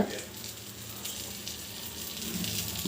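Food frying in a light splash of oil in a pan, a steady broadband sizzle running evenly throughout with faint low kitchen hum beneath.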